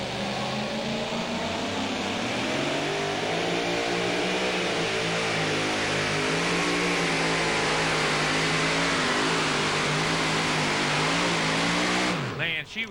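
A 2WD pulling truck at the 2008 NTPA Super Nationals in Tomah, Wisconsin roars at full throttle dragging a weighted sled, a loud continuous engine howl with shifting pitch that cuts off abruptly near the end, with an announcer talking over it.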